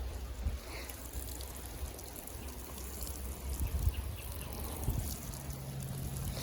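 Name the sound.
watering delphinium seed trays with surface water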